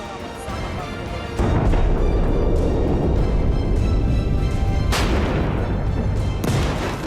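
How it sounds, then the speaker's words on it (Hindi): Anti-tank missile strikes hit Hezbollah positions in southern Lebanon, heard as heavy, loud blasts and rumbling booms with sharp onsets near 1.4, 5 and 6.5 seconds over sustained roaring noise. "आईडीएफ ने हिजबुल्लाह के ठिकानों पर एंटी टैंक मिसाइल दागी है"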